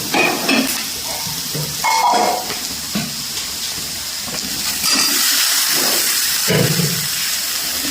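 Tomatoes sizzle and hiss as they hit onions and green chillies already frying in a pan for a coconut tomato rasam, with intermittent stirring scrapes over a steady loud crackle.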